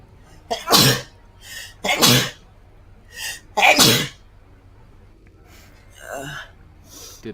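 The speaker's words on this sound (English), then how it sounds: "When I sneezed." Several loud, close sneezes from a gamer recorded in quick bursts, each sharp and explosive, with quieter breathy sounds between and a softer one near the end; no speech.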